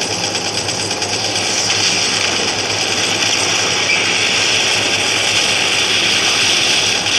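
Loud, constant roaring helicopter noise in a video game, with dense, rapid rotor-like pulsing filling the whole stretch, steady and close, with no voices.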